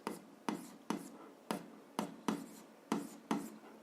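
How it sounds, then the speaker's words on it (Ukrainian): Small, tight handwriting of algebra on paper gives a steady run of about nine short scratchy pen strokes, close and quiet, with nothing else audible. "я буду якимось маленьким шрифтом писати, щоб помістилось"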